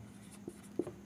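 A pen writes a math formula by hand on paper, a few short scratchy strokes, close and fairly quiet, with no talking.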